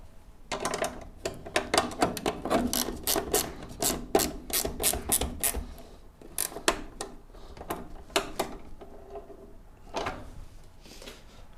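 Nuts on a gas spring fitting are tightened with a wrench, giving a close run of rapid metallic ratcheting clicks and scraping strokes in uneven bursts, with brief pauses between turns.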